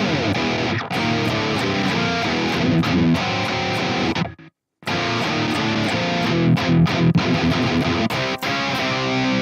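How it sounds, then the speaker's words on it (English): Loud distorted electric guitar through a tight noise gate in the TONEX iOS app chugs and rings, cutting to dead silence abruptly in a gap, then resuming with sharp, clipped stops between phrases. "Wow, that noise gate's pretty damn tight."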